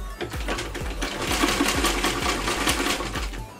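A sewing machine stitches a multi-colour blouse in a fast, even mechanical rhythm, loud and close, with no talk.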